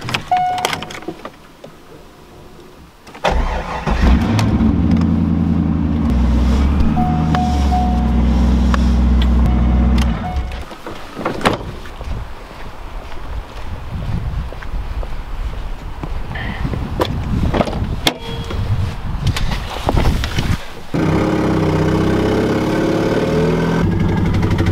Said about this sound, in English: I'm gonna move this car over so I can go ahead and take that one and put it under the overhang